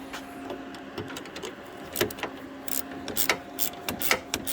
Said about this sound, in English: Grab the trusty ratchet here.